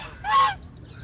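A goose gives one short, nasal honk, close and clear, against near silence.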